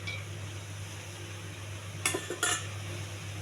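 A utensil scraping and clinking twice against a pan while meal maker curry with salt and spices is stirred, two quick bright clatters over a constant low fan hum, nearby, no talking.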